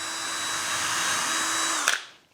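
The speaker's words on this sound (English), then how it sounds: "you're gonna wanna drill down like 3/4 of an inch" Power drill boring a hole into a wooden bowl blank, a loud steady whine that holds, then abruptly winds down and stops near the end.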